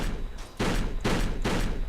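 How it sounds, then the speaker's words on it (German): Rapid bursts of video-game gunfire tear into a wall in Kane & Lynch 2: Dog Days, with three or four dense volleys separated by short gaps, moderately loud, with no talk. "du kannst die Wand kaputt schießen"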